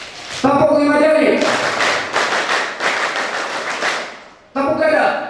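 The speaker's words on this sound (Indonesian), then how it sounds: "Tepuk 5 jari." Crowd of students clapping along to a five-finger clapping routine at a school orientation, dense rapid applause filling the scene for several seconds between short bursts of a leader's voice.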